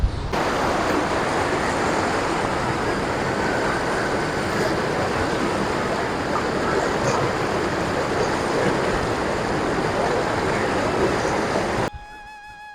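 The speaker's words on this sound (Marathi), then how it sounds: "इकडे कपिला नदी मला पाण्याचा आवाज येऊन राहिला की नाही काय माहीत मस्त खळखळ आवाज आहे" Rushing water of the Kapila River near its confluence in Nashik, a loud steady roar and gurgle that goes on unbroken until it cuts off near the end.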